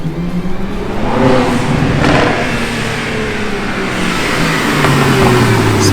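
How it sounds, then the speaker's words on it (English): A Lexus IS fitted with PPE headers revs as it is driven in, a loud, steady engine drone with rising surges that holds close throughout and has no talking. "we're gonna bring the car in"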